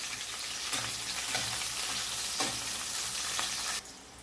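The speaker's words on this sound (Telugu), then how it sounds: "ఆయిల్ హీట్ ఎక్కిన తర్వాత పచ్చిమిర్చి వేసుకోవాలండి వేయించుకోవాలి" Green chillies fry in hot oil for a chicken liver fry, giving a loud, steady sizzle broken by a few sharp stirring scrapes. The hiss drops abruptly near the end.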